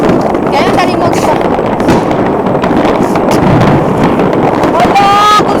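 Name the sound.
fireworks exploding during a New Year display in Copenhagen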